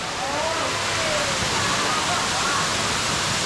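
A waterfall beside a hiking trail near Chiang Mai, Thailand, roars as a dense, steady wash of rushing water, loud and close throughout, with faint voices of people nearby mixed in.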